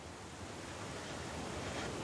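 Wind blows through the trees of the woods outside a cabin, where some trees have broken tops and larches bend with it. It is a steady, full roaring hiss that builds slightly and never pauses, with no voices.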